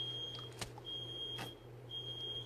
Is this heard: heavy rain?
no